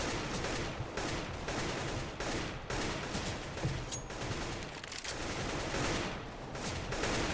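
Rapid CS:GO gunfire in a pistol-only headshot server, dense overlapping shots cracking continuously for several seconds with brief gaps, loud and close like a busy firefight.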